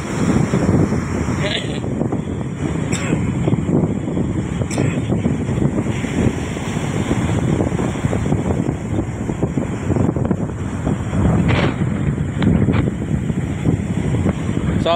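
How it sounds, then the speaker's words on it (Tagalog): Strong typhoon wind at the seashore roars and buffets the microphone in a steady, loud rumble, with surf-like wash underneath throughout. "Sobrang lakas ng hangin ngayon sa tabing dagat mga kabatots."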